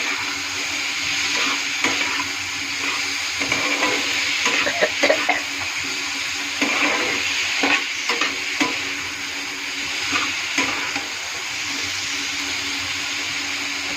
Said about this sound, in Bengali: আমি কাটা টমেটোটা ছেড়ে দিব। এটাও মিক্স করে দেবো ভালো করে।